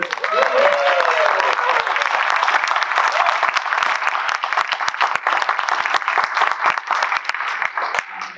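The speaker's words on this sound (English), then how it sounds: "And also a round of applause for Leah, because I didn't have to." An audience at an awards dinner applauds in a dense, sustained round of clapping that lasts several seconds, with a voice briefly audible at the start.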